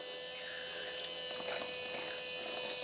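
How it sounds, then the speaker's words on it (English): Tap water pours steadily over a toy dish being rinsed in a sink, a constant close hiss and splash with no talking. "dump your soapy water and rinse it off"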